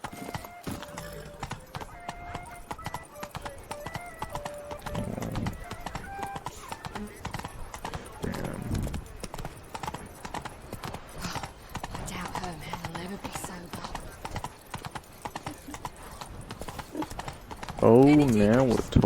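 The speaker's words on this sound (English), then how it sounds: "Can I even ride my horse?" A horse gallops in The Witcher 3 with continuous rhythmic clip-clop hoofbeats, a whinny near the end, under game music and a voice talking.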